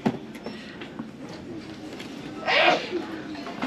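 A single short sneeze sounds from nearby in a TJ Maxx store during talk about gift sets, with voices around it.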